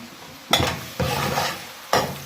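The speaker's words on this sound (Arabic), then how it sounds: "هننزل باول كميه من البصل" Onions going into a pan for a stuffed-vegetable filling mix: three loud stirring scrapes, close by, over a steady low sizzle, with no voices.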